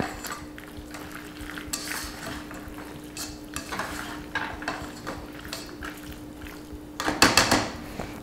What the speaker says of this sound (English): toss it in with the sauce. Get it all coated, get it all loved up.